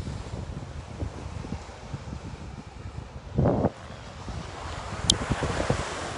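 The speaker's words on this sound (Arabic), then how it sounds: "الريح راهو شويه" Steady outdoor wind buffets the microphone, a continuous rushing roar with gusty surges and a brief louder rumble midway, no voices.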